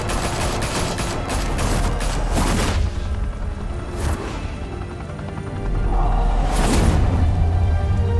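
Gunfire and booming blasts in The Batman video game, bursts of shots with whooshing impacts continuing loudly throughout under a dense, busy mix.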